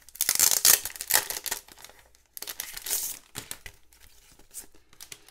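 Paper envelopes from a set of planner stickers are handled up close, giving crisp crinkling and rustling in two bursts with a short pause between them.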